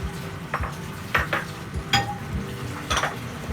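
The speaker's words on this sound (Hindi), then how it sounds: "अब हम इसमें बंद गोभी ऐड कर देंगे और इसको अच्छी तरह मिक्स करेंगे" A utensil scrapes and knocks against a pan as cabbage and vegetables are stirred, giving a series of close, uneven clinks and scrapes about once a second over a soft background.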